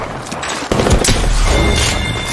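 Rapid gunfire from a firefight in the battle royale shooter Apex Legends, loud and dense bursts with heavy impacts over about two seconds, a sharp onset partway through.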